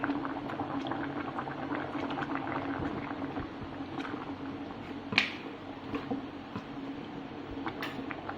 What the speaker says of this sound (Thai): เดี๋ยวเราเติมน้ำปลาไปนิดนึงนะครับ